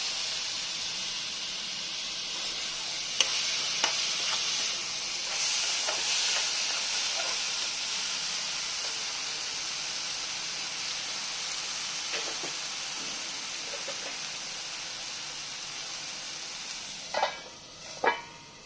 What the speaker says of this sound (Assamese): চাওক এইখিনি ধুনীয়াকৈ ভাজ খাইছে